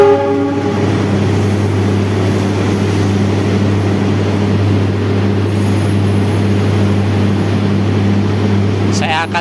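A CC 206 diesel locomotive throbs with a deep, steady engine drone, loud and near, with a tonal horn-like note at the start and a voice speaking over it.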